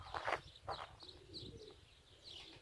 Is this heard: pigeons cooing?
yes